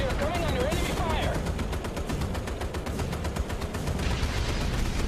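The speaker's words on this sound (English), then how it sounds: "Switch back to AA guns here, so those are the ones firing." Anti-aircraft guns in the naval combat video game Battlestations Midway fire in rapid, sustained bursts, a dense loud rattle of shots running through the whole stretch over a busy game soundscape.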